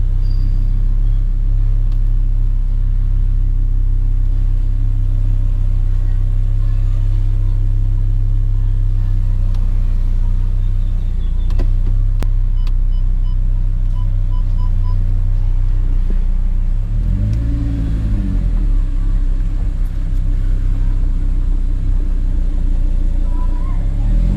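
Audi R8 V10 engine at a dealership, a deep steady close rumble at idle while reversing, with a brief rise in revs midway and no clear speech.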